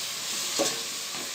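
Ginger paste and chili powder sizzle and fry in a hot pan, a steady close hiss with a brief stirring scrape in the middle.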